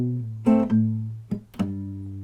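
Acoustic guitar strumming a few chords of a song's progression, including an open A and fretted bass notes, slowly and close up, with three distinct strums that ring out between them and no talking.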